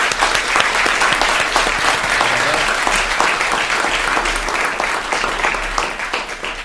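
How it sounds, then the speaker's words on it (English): Audience applause for the panel speakers at a book launch event, a loud continuous wash of many people clapping, steady throughout with faint crowd murmur beneath. "Please join me in giving another round of applause to our speakers."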